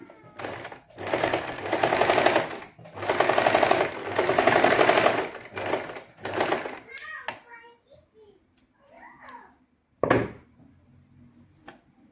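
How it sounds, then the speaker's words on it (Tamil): A sewing machine stitching a frock in short rapid whirring runs, two long bursts and a few brief ones, up close, followed by quieter handling sounds, with a voice speaking at times. "நான் தைக்க போகிறேன்"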